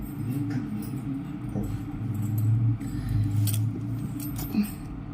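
A set of house keys jangles as it is handed over indoors, a few light metallic clinks over a steady low background hum and faint voices.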